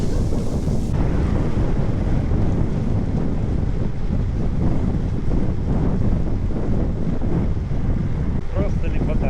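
Very strong headwind roars across the microphone of a cyclist riding through Kashubia, a loud, steady buffeting rumble that continues throughout.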